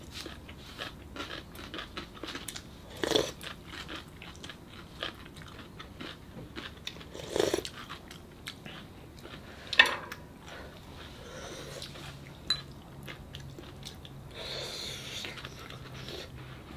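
Close bites and chews into soft taro in hot pork soup, with a few sharp, moist crunches spaced through a quiet stretch and no talking.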